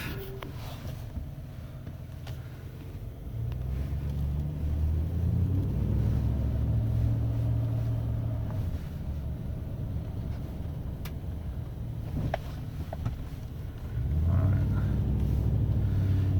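A 2007 Chevy Silverado K1500 2LT pickup with 62,000 miles shifts into drive and pulls away, its engine a steady low rumble with wind buffeting the microphone, swelling louder near the end.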